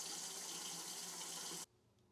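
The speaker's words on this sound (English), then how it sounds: "Let's run some water and get the well pump to kick on." Water runs steadily from a household tap, a loud, even gushing rush that stops abruptly, leaving a quiet room hum.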